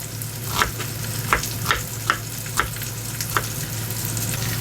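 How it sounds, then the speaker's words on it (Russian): Pork browning in a hot pan, a steady loud sizzle with occasional sharp pops and spatters. "Пока мясо жарится, быстро нарезаем 3 средних луковицы."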